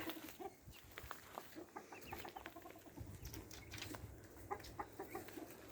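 Chickens cluck and chatter continuously, close by, over a noisy farmyard background.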